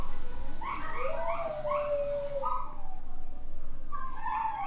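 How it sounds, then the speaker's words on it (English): Dogs howling and whimpering in a series of rising, wavering yelps and whines, close and fairly loud over a steady low background hum. "Oh my god, dogs."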